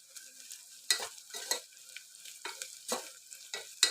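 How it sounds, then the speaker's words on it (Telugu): Tomato rasam with turmeric being stirred in a pot, close up. A spoon makes repeated scraping and clinking strokes at an uneven rhythm over a soft sizzle, with no talking. "ఇప్పుడు మళ్ళీ ఒకసారి మంచిగా మిక్స్ చేద్దాము."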